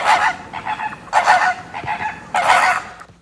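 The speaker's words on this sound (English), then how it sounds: "Flamingo." A flamingo calls in three loud, honking bursts spaced about a second apart, with fainter honks between them, close and alone with no talk.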